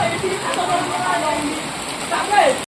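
Heavy rain pours down in a village where a Ganesh idol is being prepared under a tarpaulin, giving a dense, steady hiss of drops that fills the whole stretch. A voice is heard under the downpour.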